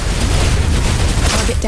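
Suppressive gunfire in a video game roars as a loud, dense wall of rapid shots and booms packed close together, with a voice speaking over it.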